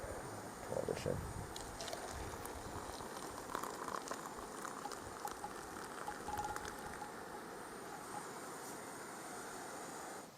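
Hot water poured into a mug of bilberry leaf tea, a continuous gentle splashing and trickling pour, quiet and steady throughout.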